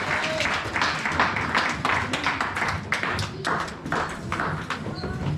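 A church congregation applauds and claps during a worship service, a steady dense patter of many hands sustained throughout, with faint voices mixed in.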